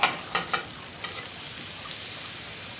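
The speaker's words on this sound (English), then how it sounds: "we got the cast iron skillet heating up inside" Coconut oil heats in a cast iron skillet inside a Weber grill, giving a faint, steady sizzle with a few soft clicks and pops early on and no voices.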